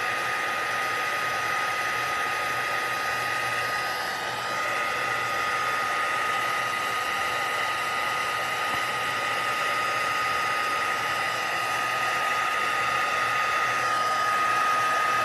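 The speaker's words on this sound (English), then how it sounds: "the heat tool to dry my ink" A heat tool drying stamped ink on vellum card stock blows a steady, close, hair-dryer-like whoosh with a constant whine, running unbroken from start to finish.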